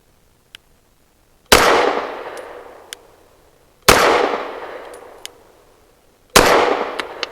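Three loud, sharp pistol shots from an EAA Girsan Witness 2311S firing Hornady Critical Duty 135 grain ammunition at an outdoor range, evenly spaced a couple of seconds apart, each with a ringing decay and faint clicks between.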